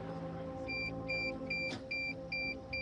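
A drone at Skinwalker Ranch in Utah emits a repeating series of short, evenly spaced electronic beeps, about five pulses at a steady rhythm over a low hum, close and clear with no speech.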